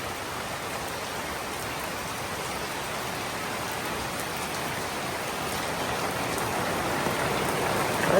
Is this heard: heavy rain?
yes